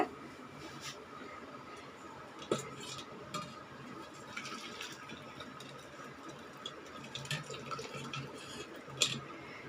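Faint, scattered drips and trickles of whey straining from curdled milk for paneer, with occasional soft clinks, quiet and continuous with no talking.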